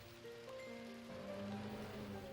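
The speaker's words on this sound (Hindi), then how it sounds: "अरे ये क्या, बारिश शुरू हो गई है।" Steady rain pours down in a cartoon, a continuous hiss of drops on surfaces that holds level throughout, with faint musical tones underneath and no talking.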